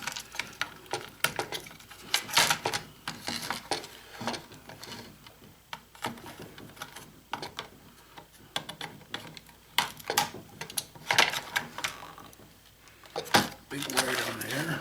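Small wires on a scrapped phone circuit board being snipped with cutters, producing short sharp clicks scattered through the passage under steady talking.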